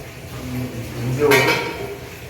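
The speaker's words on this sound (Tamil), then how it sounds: "இப்போ மூடியை போட்டு மூடிடலாம்" A metal lid clinks once onto a pot of village-style fish curry, a short bright clatter close by over a soft background hum.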